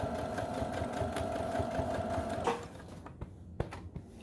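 A sewing machine stitches a fabric face mask in a fast, steady mechanical chatter for about two and a half seconds, then stops, leaving faint handling clicks and taps.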